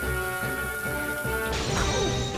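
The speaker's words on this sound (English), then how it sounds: "Spin into the bomb to disarm it, and then throw it at the glass container, just like so. Then let it detonate." A bomb detonates in Super Mario Galaxy and shatters a glass container, giving a loud crash with a bright burst of breaking glass about halfway through, over continuous game music.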